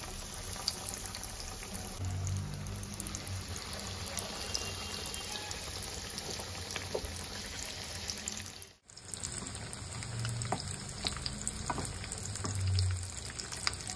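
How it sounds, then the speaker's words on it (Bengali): Cutlets frying in a hot pan on a gas stove, a steady crackling sizzle with a watery, hissing quality that drops out briefly midway, then resumes, fairly quiet and close. "এবার আমি কাটলেটগুলো ভেজে নেব।"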